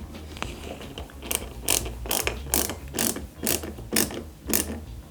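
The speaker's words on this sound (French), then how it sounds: "Et on vise délicatement parce que ce sont de petites vis." Small silver screws being driven by hand into a part of a Ghostbusters Ecto-1 scale model, a series of about eight short crisp ratcheting clicks in steady rhythm, close and moderately loud.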